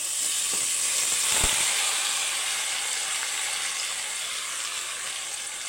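Mourola fish going into hot mustard oil with black cumin makes a loud close hissing sizzle that peaks on contact and then settles into a steady spitting fry, with no talk.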